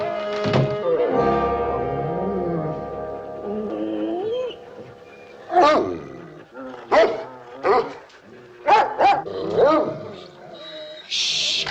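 A hound dog gives a long, wavering howl up close, then lets out a string of loud, separate barks and yelps in uneven bursts.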